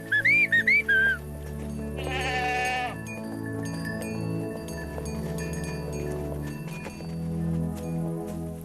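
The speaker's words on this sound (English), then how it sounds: "Come on, move your tails, you lazy goats!" A goat gives a few short, wavering bleats, then a longer bleat follows over a soft, steady background.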